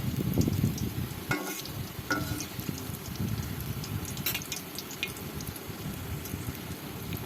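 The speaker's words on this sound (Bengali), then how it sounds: "এবার এটাকে ভেজে নেব মিডিয়াম আছে একদম আমার কিন্তু লোতে দিয়ে আমি ভেজে নিচ্ছি" Banana nimki frying in oil over low heat make a dense, steady bubbling sizzle like light rain, close and even, with a few sharp clinks of a utensil early on; no voices.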